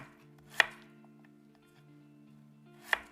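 A knife chops radish on a cutting board for salted oyster jeotgal, giving two sharp, isolated knocks about two seconds apart over a quiet background hum.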